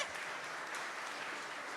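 Applause from an audience greeting Monsieur Maviel as he arrives at the ADRA fifteenth-anniversary gathering, a steady, fairly faint wash of clapping for under two seconds.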